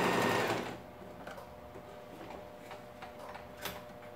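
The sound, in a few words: sewing machine stitching a tall toiletry bag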